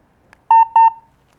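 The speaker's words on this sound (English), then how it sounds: "You press and hold that down, you will hear a beep" Two quick pairs of electronic beeps from a PETOPIX dog talking button as it records, bright and close, sound in an otherwise quiet moment after a faint click.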